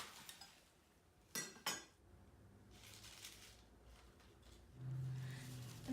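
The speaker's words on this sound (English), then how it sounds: "I'm gonna cut some of the stems." A knife chops through spinach stems on a cutting board in a home kitchen, giving two crisp, close knocks followed by softer scattered taps at low volume.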